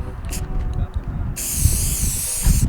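Short bursts of a spray paint can, then a loud sustained spray hiss, close up, with a voice talking underneath, along Route 66.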